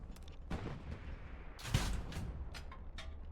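A tank's cannon fires once in a video game match, the blast a sudden loud boom amid a constant low rumble of engines and battle noise, with a few fainter distant impacts following.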